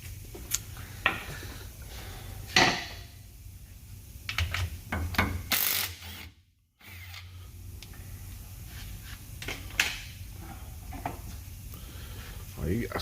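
Differential cover being taken off a Ford F150 and a clip popped, with scattered metallic clicks, scrapes and clunks close up over a low hum, and people talking at times.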